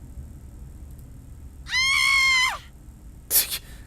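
A girl's high, sustained scream in the Memoria video game, loud and close for under a second, followed after a pause by a sharp, brief crash.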